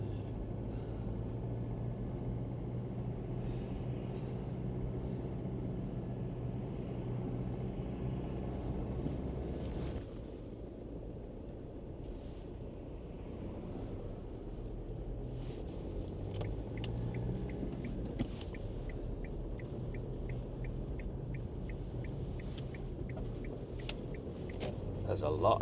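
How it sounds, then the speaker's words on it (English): Cars pass on a foggy road, a low continuous rumble of traffic that swells and fades at moderate distance, with a person talking over it. "there's a lot of cars coming this way"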